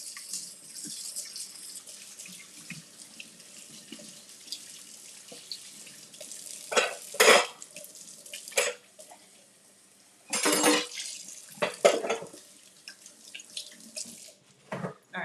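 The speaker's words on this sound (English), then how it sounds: "So rinsing off our batter." Kitchen sink tap running water to rinse waffle batter off, a soft trickle broken by louder splashing gushes as items pass under the stream.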